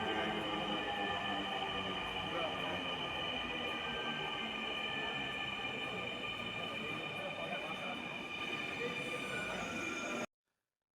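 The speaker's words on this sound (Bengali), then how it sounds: "ট্রেন যাওয়ার অসাধারণ দৃশ্যটি দেখতে পাবেন" A metro train in Bangladesh rumbles past continuously with a steady roar and faint squealing of wheels, then the sound cuts off abruptly near the end.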